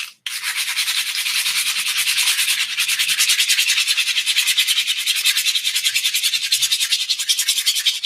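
A handmade wand handle being sanded smooth, a close, loud, rapid back-and-forth rasping in an even rhythm that continues steadily throughout.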